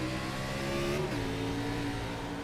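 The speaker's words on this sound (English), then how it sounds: "Nate Bauer, he's on the loud pedal." A race car accelerating from the green flag start in an iRacing sim race, with a loud, steady engine roar that drops in pitch with a gear change midway, then climbs again.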